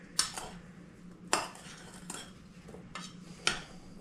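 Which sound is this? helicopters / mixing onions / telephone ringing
mixing onions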